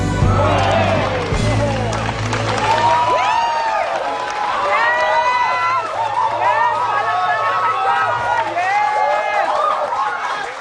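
A crowd applauds and cheers loudly and continuously, with voices shouting over the clapping and music sounding underneath.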